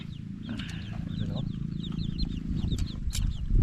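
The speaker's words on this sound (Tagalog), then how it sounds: "Yung manok sa kabila mga idol oh" A chicken clucks nearby in rapid repeated bursts, heard over someone talking and outdoor background noise.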